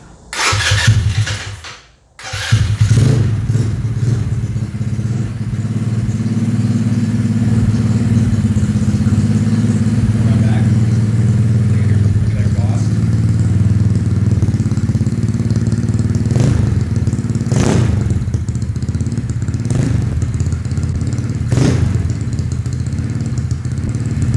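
A Honda Ruckus scooter fitted with a GY6 engine cranks on the electric starter, catches and settles into a steady close idle, with occasional clanks and rattles over the running engine.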